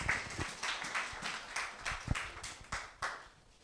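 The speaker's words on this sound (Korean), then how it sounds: "박수로 맞이할까요?" Sparse, quiet hand clapping from a church youth worship service congregation welcoming a department head, distinct claps landing roughly twice a second in a loose, even rhythm.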